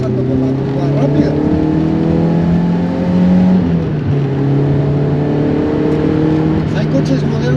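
Peugeot 205 GTi engine pulling hard through a fast curve, a loud steady drone with rising and falling pitch as revs shift, a brief dip near mid-clip, close in-cabin sound throughout.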